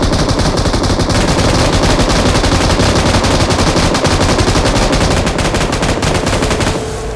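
Loud, rapid automatic gunfire from a video game rattles almost nonstop in dense bursts and tails off briefly near the end, with no talk over it.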